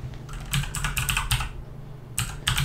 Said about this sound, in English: There we go, my clicky keyboard.